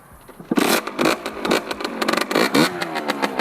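A small 50cc motorcycle engine runs close by with a rough, buzzy rattle, revving in uneven pulses that rise and fall.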